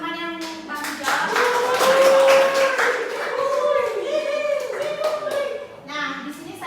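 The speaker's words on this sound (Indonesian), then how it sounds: "beri tepuk tangan untuk teman-teman yang bantu jawab" Students in a classroom clap for classmates who helped answer, a short burst of mixed hand claps heard with children's voices and talk over it.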